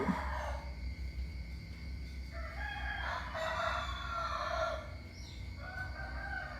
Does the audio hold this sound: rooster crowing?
yes